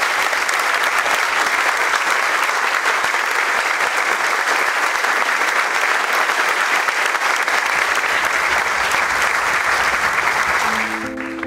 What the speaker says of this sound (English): was greeted with thunderous applause and cheerful admiration.